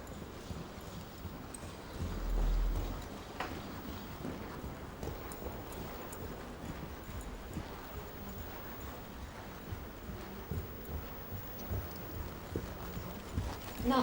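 A horse trots in a dressage arena, hooves striking in a steady, soft two-beat rhythm at moderate distance, fairly quiet and alone.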